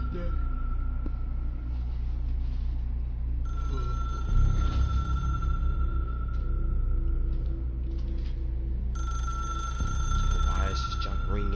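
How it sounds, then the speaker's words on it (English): A red telephone rings steadily inside the Control game world, a sustained electronic ring tone under low droning ambience and game rumble, with a voice speaking over it. "Why is this junk ringing? Why is the phone red?"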